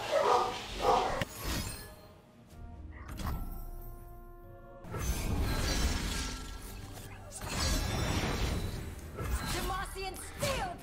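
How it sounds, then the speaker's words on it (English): Dogs bark at workers doing yard work in a neighbor's backyard, a few sharp barks and clattering crashes in the background while someone talks over game sounds. "The dogs love barking out at the..."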